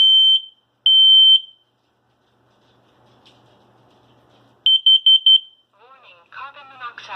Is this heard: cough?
no